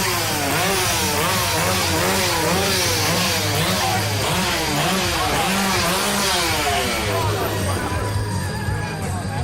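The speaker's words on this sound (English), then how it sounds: "You ever been chased around with a chainsaw, Nikki?" A chainsaw revs during a wrestling entrance, its engine pitch repeatedly rising and falling in loud, wavering bursts that run almost continuously under arena noise and talking voices.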